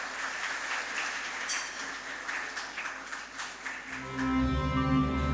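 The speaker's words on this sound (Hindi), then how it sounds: "हमारे स्टाफ मेंबर्स एक शानदार नृत्य के साथ जोरदार तालियों के साथ स्वागत कीजिए।" Applause from an audience at a hospital Independence Day event welcoming a staff dance, steady clapping for about four seconds before loud music with a strong beat takes over.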